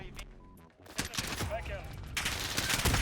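M4 rifle fire in Call of Duty: Modern Warfare hardcore multiplayer, a quick automatic burst after a short lull, loud and close, followed by continuing shots and game noise.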